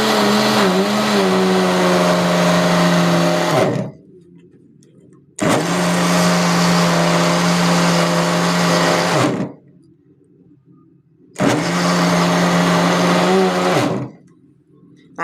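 A blender runs loudly in three long bursts of about four seconds each while homemade chocolate hazelnut spread is mixed from powdered sugar and milk. Short near-silent pauses separate the bursts, and no one speaks.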